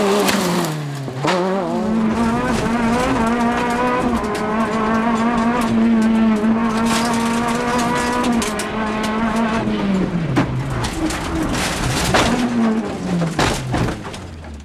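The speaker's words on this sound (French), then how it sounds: "La pression est trop forte, sortie de route sans gravité pour le leader" A Peugeot 206 rally car races on a stage road with its engine screaming loud and close, revs rising and falling through gear changes, with tire scrabbling and skidding as it slides off the road.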